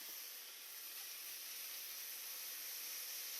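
Cubed bacon sizzles steadily in a hot pan while smash burgers are being made, a constant, loud broadband hiss with no pauses and no talking.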